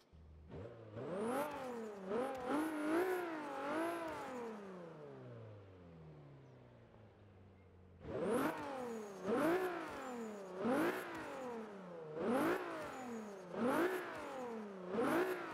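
A Honda S2000 drift build in Forza 5 starts up and revs hard, its engine note climbing and falling in repeated sharp blips, a long rev first, then a pause before a fast series of rising throttle bursts.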